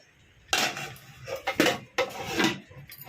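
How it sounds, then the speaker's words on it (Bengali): A metal lid is set onto a pot of Kashmiri jackfruit curry, giving several close clanks and scrapes of metal on metal in quick succession. "এইবার এটাকে ঢাকনা দিয়ে 10 মিনিটের মতো হতে দেব।"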